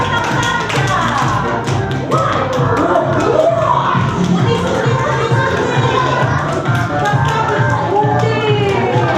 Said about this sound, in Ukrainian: Оплесками його привітаємо.